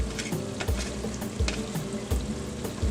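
Scallions sizzle in a pan with tomato paste and seasoning, a close, continuous frying hiss punctuated by regular scraping and knocking as the mixture is stirred.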